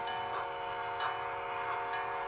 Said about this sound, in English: From inside the roundhouse, an engine enters the turntable for maintenance.